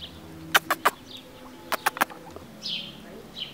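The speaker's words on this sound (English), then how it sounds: "The chicken goes first." A chicken in Michoacán, Mexico, gives two close bursts of three sharp clucks each, loud against a quiet background with faint bird chirps.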